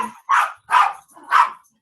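A dog barks three times in quick succession, close and fairly loud, each bark short and evenly spaced, with no other sound around it.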